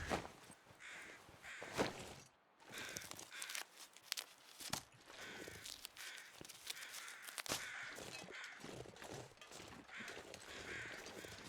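Crows caw repeatedly overhead in The Long Dark, loud harsh calls in irregular bursts with short gaps, alone in a snowy wilderness game setting.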